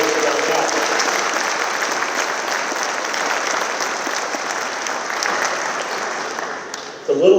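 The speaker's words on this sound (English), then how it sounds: "I think that deserves a round of applause on its own." Sustained audience clapping at a high school graduation ceremony, a broad steady roar of many hands that fades slightly before a voice breaks in at the very end.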